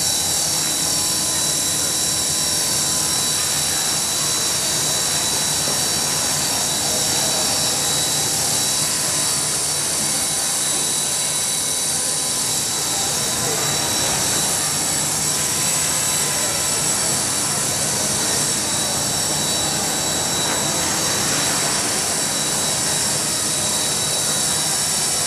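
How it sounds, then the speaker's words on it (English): A Copter X helicopter flying indoors inside a mall gives a steady, loud, continuous whir with a bright high-pitched hum, holding evenly throughout with no talk over it. "Copter X in flight"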